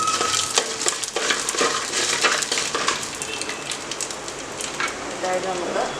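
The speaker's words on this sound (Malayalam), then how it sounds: "ആ ഉഴുന്നൊക്കെ ഒരു ബ്രൗൺ നിറമാകുന്നതിന് വരെ ഒന്ന് ജസ്റ്റ് ഒന്ന് ഇളക്കണം." Urad dal frying in oil in a pan while being stirred for upma, a continuous loud sizzle with scraping stir strokes, close up and without speech.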